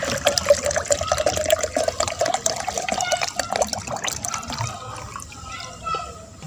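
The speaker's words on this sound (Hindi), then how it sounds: "अब हम जग में डालेंगे पानी।" Water poured into a jug gives a continuous gurgling, filling sound that gradually fades, with a person talking over it.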